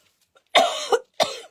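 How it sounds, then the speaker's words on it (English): A person coughs from dust while threading wire through a loop on a vine craft project: a short burst of coughing, then a single harsh cough after a brief pause, close and fairly loud. "This must be dusty because it's making me cough."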